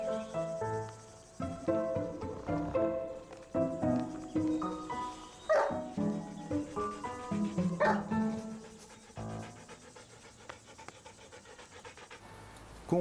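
A dog pants and gives a few barks at an agouti stealing its food, outdoors in Manaus, with a steady chorus of crickets and insects underneath.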